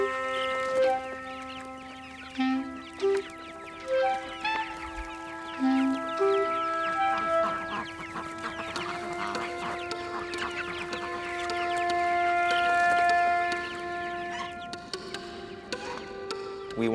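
Pasture-raised chickens on a farm cluck steadily and close by for the whole stretch, with the calls rising and falling in a busy flock chorus over a constant tonal background.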